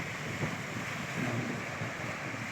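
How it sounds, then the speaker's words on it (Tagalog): Strong sea waves wash against the shore at San Narciso, Quezon, a continuous broad roar of surf mixed with gusty wind buffeting the microphone, fairly loud and steady with no voices. "Medyo malakas ang alon ngayon."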